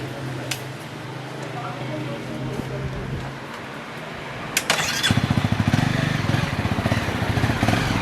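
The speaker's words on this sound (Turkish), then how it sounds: "Motosikletleri içeri alıyoruz." A motorcycle engine starts and settles into a steady, close, rumbling idle after a stretch of quieter background as the bikes are brought inside a boutique hotel; voices are heard before it.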